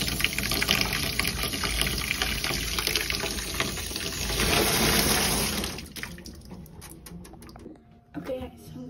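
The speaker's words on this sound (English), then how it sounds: "Water." Water runs from a kitchen tap, filling a container with a loud, steady rushing splash for about six seconds. Then it cuts off, leaving quieter clatter and a voice in the background.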